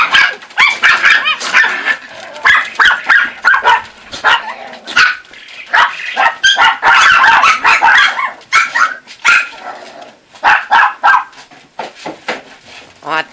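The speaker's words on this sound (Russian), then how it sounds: "Это Зося таким песклявым голосом лает на барона." A Chihuahua puppy barks at a cat in a shrill, high-pitched voice, firing off a long string of rapid, loud yips and barks close by with hardly a pause.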